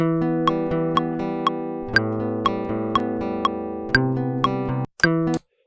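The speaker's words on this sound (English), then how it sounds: "The acoustic guitar records in pretty clean, pretty nice sounding" An acoustic guitar plays ringing chords with evenly spaced plucked notes, clean and dry, ending with a brief pause and a final strum.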